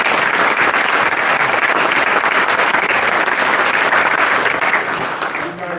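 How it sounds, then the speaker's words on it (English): Loud, dense applause from a crowd at a drivers' meeting for a road-course motorsport event, sustained for several seconds before starting to taper off at the end. "a big round of applause for Brock and all the support staff"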